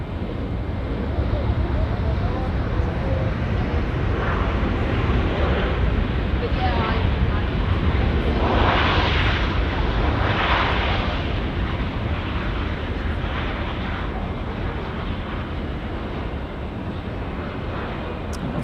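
A jet airliner touches down at Auckland Airport in a strong westerly wind, a loud continuous roar of engines and rushing wind that holds steady, with a voice talking over it.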